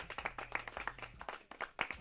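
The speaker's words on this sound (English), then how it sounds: "Clap it up for the new keyboard." Sharp handclaps in a quick, uneven rhythm, close and fairly quiet, celebrating a newly bought keyboard, with a low hum running underneath.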